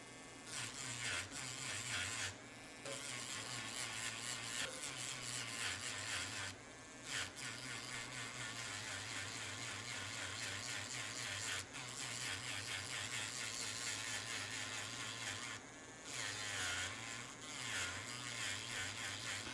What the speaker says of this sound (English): So the goal here is to shave it down, kind of shave down the original spot welds that were on there